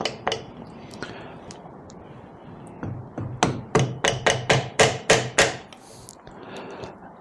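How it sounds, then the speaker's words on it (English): A run of metallic hammer taps driving a piston pin into a BSA motorcycle engine's connecting rod, slow at first and then quicker and louder, ringing against a steady background hum with no talking. "it's not good to hammer these in because the con rod's bent easy"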